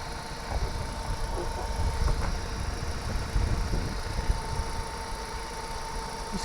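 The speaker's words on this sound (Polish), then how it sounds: "Silniczek pracuje równiutko, cichutko." A 2016 Hyundai i30 petrol engine with timing chain idles steadily, a low, even continuous drone with a faint tonal whine, with no voices.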